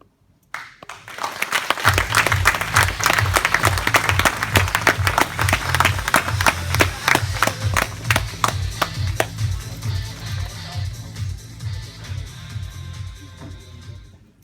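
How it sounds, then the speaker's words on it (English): Audience applause rises after a speaker's story at a pre-launch event in Glasgow, a dense wash of many hands clapping with steady beats underneath, then thinning and fading toward the end. "Let's give her another round of applause."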